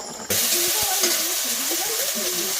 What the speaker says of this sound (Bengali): তরকারি ফুটে উঠেছে আর মাছগুলো কিন্তু দিয়ে দিচ্ছি।